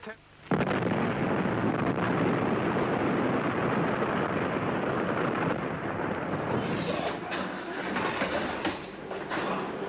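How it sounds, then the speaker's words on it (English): A sudden deep, roaring underwater explosion that swells into a long, heavy rumble, sustained and loud before slowly tapering. "An explosion. A pretty big one at that. And underwater."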